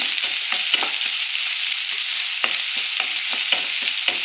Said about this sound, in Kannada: ಇವಾಗ ಈರುಳ್ಳಿ ಬೇಯಬೇಕು